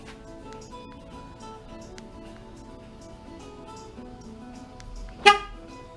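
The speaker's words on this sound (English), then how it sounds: "And then the horn blows." A single short car horn blast sounds once near the end, sharp and fairly close, after several seconds of quiet background hum.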